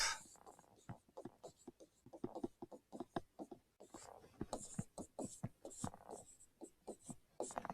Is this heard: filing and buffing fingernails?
no